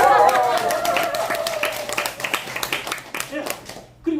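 An audience at a speech and laughter-instruction class claps together in a burst of applause that thins out toward the end, while a voice carries over the start.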